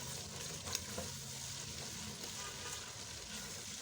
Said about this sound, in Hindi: अब ये देखिए मसाला हमारा भुन गया है।